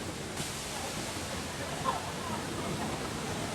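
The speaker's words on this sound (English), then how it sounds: "this is the afternoon waterfall show inside Marina Sands" The indoor waterfall at Marina Bay Sands in Singapore rushes as a steady, even roar of falling water, broad and continuous with no distinct events.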